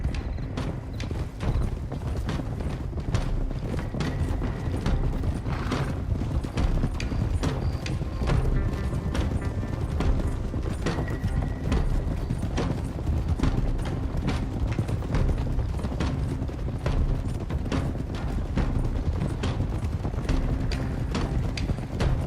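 Steady clip-clop of several horses' hooves on a road in Red Dead Redemption 2, continuous and fairly close, with faint tack and ambient game sounds underneath.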